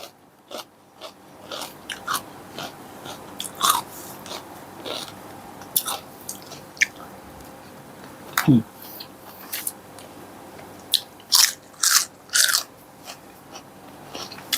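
Someone bites and chews crisp fresh vegetables up close, making sporadic crunching snaps over quiet room tone, with a few louder crisp bites toward the end.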